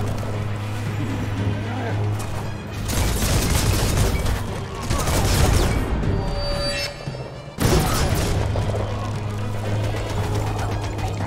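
Sustained bursts of gunfire aimed at a big all-metal enemy in the game Biomutant, loud and dense with a short pause, over steady game ambience while a voice talks.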